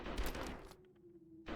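An artillery cannon fires in the video game Conscript: a loud, sharp blast with a rumbling tail that fades into near silence, then another burst cuts in at the end.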